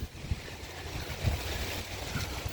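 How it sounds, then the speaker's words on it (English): Strong wind gusting outdoors in Fontana, California, buffeting the microphone with a steady low roar and occasional louder thumps, with no one talking. "right now, right here in Fontana, California, there's a bunch of wind"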